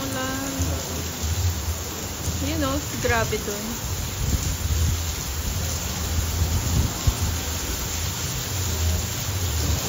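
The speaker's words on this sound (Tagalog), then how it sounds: "Shit, lakas ng ulan." Steady heavy rain hisses throughout, with people talking and exclaiming over the downpour.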